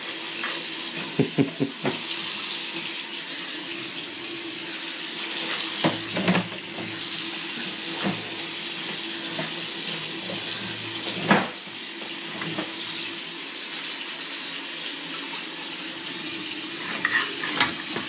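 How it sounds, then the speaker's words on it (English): Water trickling and gurgling through a clogged main drain pipe, with scattered clanks and knocks, steady and fairly close, no voices. "I hear gurgling."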